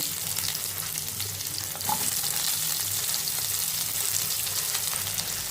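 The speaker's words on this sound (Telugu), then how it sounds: "ఒక 2 వెల్లుల్లి, కొంచెం కరివేపాకు, అంతే. ఉల్లిపాయలు కొంచెం ఫ్రై చేయాలంటే." Chopped onions fry in oil with garlic and curry leaves for an okra curry, a steady, dense sizzle crackling close up throughout, with a faint low hum beneath.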